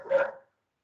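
A single short dog bark, fairly faint and close-miked, breaks in during an online governing board meeting, then silence.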